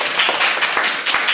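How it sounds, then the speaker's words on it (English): Brief burst of applause from an audience after a Year 6 pupil's keyboard performance of Star Wars: dense, steady clapping throughout, fairly close and loud. "Round of applause."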